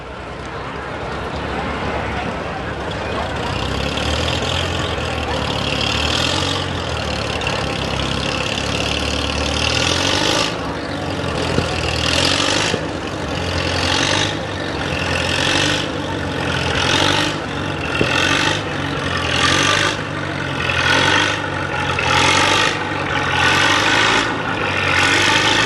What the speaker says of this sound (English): Jeff Schmitz with a 1947 Farmall H.